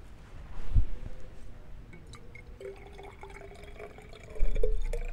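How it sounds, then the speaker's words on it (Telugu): Water is poured into a glass conical flask until it is half full during a school chemistry demonstration. A faint, steady trickle with a slowly rising filling tone is heard, with a couple of louder bumps. "సగం వరకు నీటిని పోయాలి."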